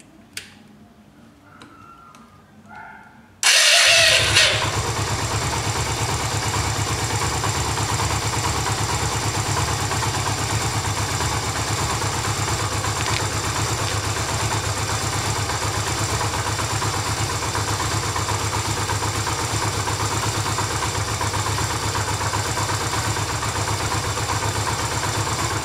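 A Yamaha XV 250 Virago motorcycle engine starts after a few seconds of quiet handling noises, then settles into a steady, loud idle that runs on without a break.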